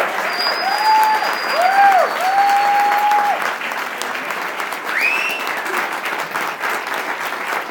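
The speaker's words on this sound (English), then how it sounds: "Please give a round of applause for Mr." Crowd applause at a political summit of Our Revolution in New Jersey, loud, steady clapping filling the room, with whistles and cheers rising over it and voices calling out.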